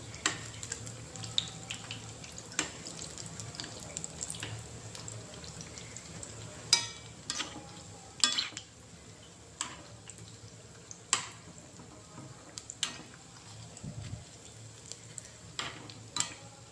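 Aloo bondas (Mysore bondas) sizzle steadily in hot oil while a spoon turns them, giving a constant low frying hiss broken by sharp metallic scrapes and clicks at irregular intervals, close and without talk.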